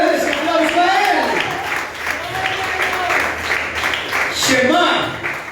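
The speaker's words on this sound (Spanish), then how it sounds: "Denle ese aplauso a Él." A church congregation applauds during a Spanish-language sermon, brief bursts of clapping mixed with a voice talking loudly over the crowd throughout.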